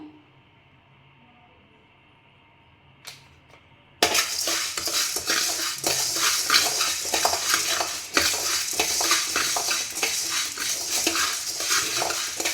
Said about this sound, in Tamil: அதுக்கப்புறம் ஒரு ஐம்பது கிராம் நல்ல மிளகு வரல அதையும் போட்டு அடுத்தல வறுப்போம்